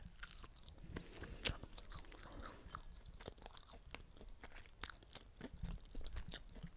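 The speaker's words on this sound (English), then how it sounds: "I think I'm just going to have to stuff my face a little more." Someone chews crunchy snack food near a podcast microphone, giving a steady run of soft crunches and bites with one sharper crack early on.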